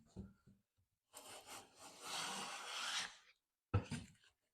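A hand plane shaves a fine cut from a board, one long smooth rasping stroke of about two seconds, followed by a short second pass after a pause, close and fairly loud with no talking.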